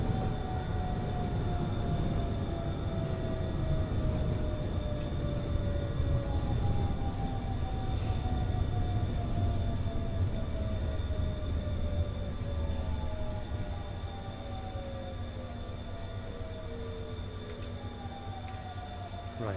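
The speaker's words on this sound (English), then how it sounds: "Just watch the train come in." A metro train pulling into a station in the Hmmsim Metro train simulator game, a steady rolling rumble with slowly falling whining motor tones, easing off toward the end.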